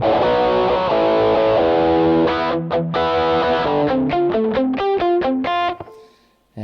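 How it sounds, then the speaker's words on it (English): Heavily distorted electric guitar through a Rock-Box distortion pedal, playing sustained power chords and then a run of sharp, choppy staccato chord stabs, loud and close, ending in a brief fade to near silence with no talk. "I can imagine the distortion box be for like your main kind of power chord stuff"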